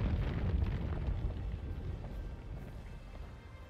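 Deep, continuous explosive rumble from the video game Dragon's Dogma 2, heaviest at the start and slowly easing off while staying loud and close, with no talk over it.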